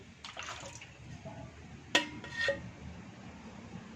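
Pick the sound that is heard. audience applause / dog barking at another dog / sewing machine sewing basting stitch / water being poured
water being poured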